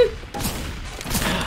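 Rapid bursts of gunfire from the video game Left 4 Dead 2 crackle through a short stretch, the shots loud and close with a dense, rattling texture.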